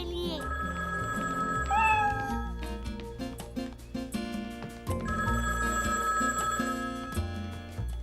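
A telephone rings in a children's cartoon home, repeated electronic ringing tones over background music, with a cat-like meowing sound mixed in and voices nearby.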